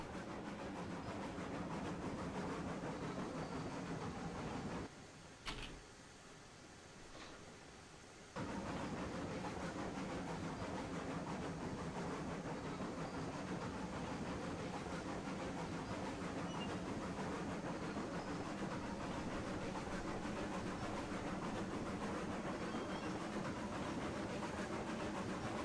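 A steam locomotive strains against its train in the game Railroads Online, a loud continuous chuffing and rumble with hissing steam that cuts out briefly for a few seconds before resuming at full strength.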